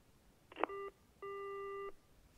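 A telephone busy tone in the video game Yakuza Kiwami 2 follows a call ending: a click, then two steady electronic beeps, clean and moderately loud with no voices.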